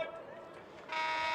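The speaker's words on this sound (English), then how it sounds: "The buzzer sounds." A loud, sustained electronic buzzer ends a women's college soccer match between Bowling Green and Findlay. It cuts in sharply about two-thirds of the way through, after a stretch of announcer commentary.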